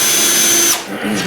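A power drill whines loudly at close range as it backs screws out of a vintage Wang computer, then the motor pitch drops briefly and rises again.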